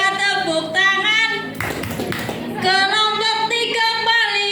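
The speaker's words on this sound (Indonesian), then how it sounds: "Kalau kelompok 3 tepuk tangan." Students in a school classroom clap their hands together in a short burst of fast, loud claps, set between stretches of chanting voices.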